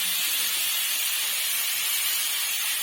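Raw mango pieces sizzle while frying in a pan, a loud, dense, unbroken hiss heard up close for the whole stretch with no talk.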